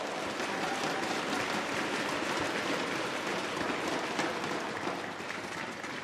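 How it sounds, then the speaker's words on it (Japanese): A table tennis league crowd claps steadily to welcome a player, giving a continuous wash of applause that stays even and sustained and eases slightly toward the end. "じゃあアリノム 選手を皆さん拍手で迎えましょう。"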